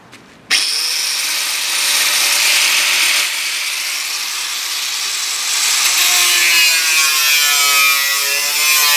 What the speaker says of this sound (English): So let's grab the angle grinder and cut some slots in.